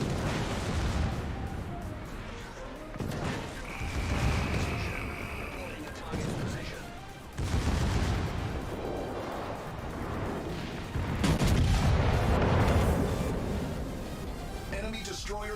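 Naval artillery rumbles through a World of Warships battle, heavy booms and explosions recurring over about fifteen seconds amid constant game noise and voices talking over it.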